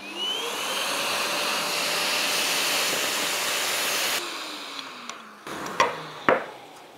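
A drill bores a hole while a connected dust extraction hose roars steadily and loudly, its pitch sliding as the load changes; after about four seconds the whine drops away, leaving lower suction noise and a few sharp knocks.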